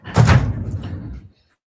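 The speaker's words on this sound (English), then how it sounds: "I'm going to close my door because I know my dog's about to bark." A door swings shut with a single solid thump, loud and close, its low resonance fading within about a second with no voices.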